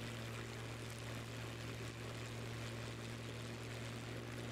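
A propeller airplane flying just after takeoff in a flight game, heard as a steady, continuous engine drone with a low hum and broadband wash, alone and unchanging throughout.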